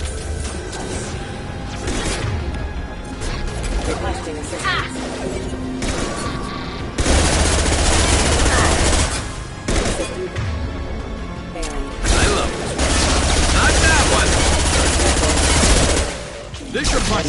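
Gunfire in the video game Mass Effect 2: long, loud bursts of rapid automatic fire with crashing impacts, broken by short pauses, and brief voices in between.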